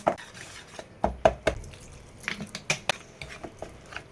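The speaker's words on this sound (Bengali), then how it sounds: "পরে জল দিয়ে থক থক একটা ব্যাটার তৈরি করবো" A spoon stirring thick jalebi batter of flour and water in a bowl, with irregular scraping and clinking knocks against the side, close and moderately loud, no speech.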